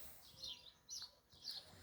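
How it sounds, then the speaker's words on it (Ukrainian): Faint high bird chirps repeat in short bursts, distant and soft against quiet outdoor background in a rose garden. "Чуєте, пташки співають."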